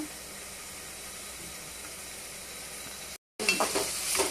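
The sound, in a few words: onions and green chilies frying in hot oil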